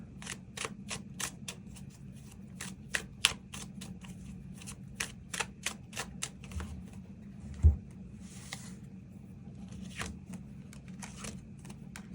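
Tarot cards being shuffled in a quiet room, a steady run of crisp, soft riffling taps and slaps close by, with a low constant hum underneath.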